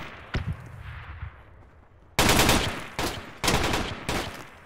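Gunfire from a teammate in a squad-based military shooter game: a single early shot, then four loud, close bursts of rapid fire with short gaps between them, with no talking.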